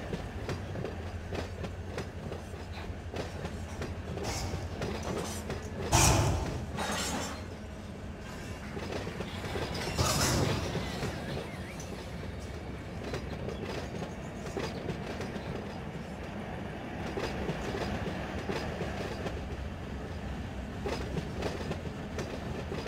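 Long, rumbling roll of a heavy freight train in the Run8 train simulator game, with rhythmic clatter of wheels on track, a couple of sharp bangs, and faint squealing.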